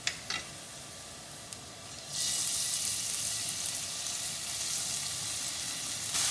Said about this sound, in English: Now let this fry for a minute before I add the tomato puree.